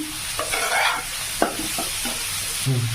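Potatoes sizzle in hot oil in a pan while being stirred for chowmein, a steady frying hiss with scraping strokes of the spatula, close and fairly loud.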